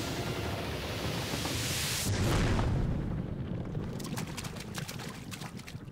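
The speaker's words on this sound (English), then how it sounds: "The boiler is going to explode!" Cartoon boiler explosion, a broad roaring blast that swells to a heavy rumbling peak and then breaks into crackling, splashing debris that fades out, with no talking.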